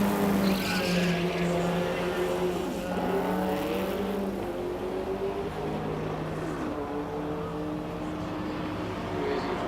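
A low race car at the Simola hillclimb roars past, its engine note rising and falling through gear changes, loud and close, with a commentator talking over it.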